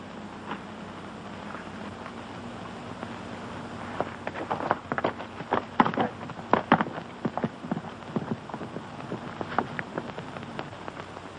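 Irregular hoof clops on a hard surface, a cluster of clattering hits in the middle of the clip, over a steady low rumble.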